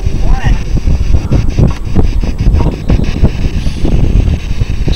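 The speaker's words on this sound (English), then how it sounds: "It's getting windy up here." Strong wind buffets the microphone on an exposed cliff road at night, with loud gusts roaring continuously throughout while people talk and move about nearby.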